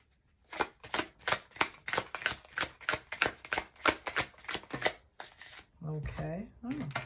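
A deck of tarot cards is riffle-shuffled over and over, giving a quick series of crisp, evenly spaced bursts up close, followed by a voice speaking at the end.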